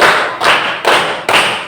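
A class claps in unison during a rhythmic ice-breaker game, four loud, heavy group claps landing at a steady beat about half a second apart, close and full with no voices between them.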